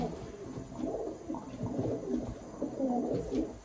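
Racing pigeons packed in a crate, cooing in overlapping low burbling calls, close and continuous, with a soft rustle of birds shifting.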